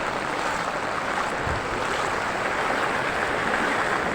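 Rising flood water after heavy rain rushes along in a steady, dense flow, a loud, continuous watery roar with no voices.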